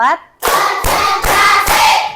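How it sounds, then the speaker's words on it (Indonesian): A group of children clapping hands in unison, four loud, sharp claps spaced evenly in a steady rhythm, close and forceful, following a brief spoken word. "Tepuk tangan lagi untuk kita semua."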